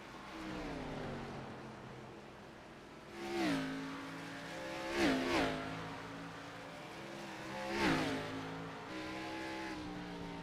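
Onboard engine of Will Hewitt's number 33 race car at the Music City 200, a steady loud drone with rising and falling revs and several sharp swells as it pushes to pass, no talk.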